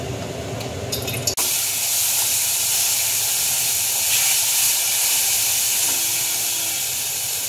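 Tomato sauce poured into a hot frying pan with oil, for chilli soya bean, sets off a loud, steady sizzle and hiss that starts abruptly after a brief quieter moment and continues strongly without pause.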